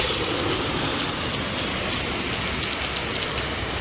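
Heavy rain pours down in a steady, dense hiss of drops striking surfaces, loud and continuous throughout with no voices.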